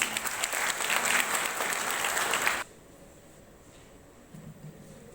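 Applause from a school morning-assembly audience welcoming a Class VIII student about to recite a poem: a dense, loud burst of clapping for about two and a half seconds that stops abruptly, leaving quiet room tone.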